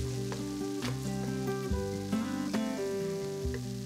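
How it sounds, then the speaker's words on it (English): Curry paste frying with onions in a pan, a steady close sizzle with occasional stirring scrapes and ticks, loud and continuous with no talking. "I like to fry off the curry paste for a couple of minutes until it splits and almost becomes grainy"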